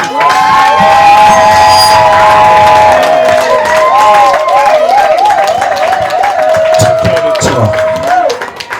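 Wedding guests clap and cheer loudly in a dense, sustained burst, while a high wavering ululating voice rides over the crowd noise throughout.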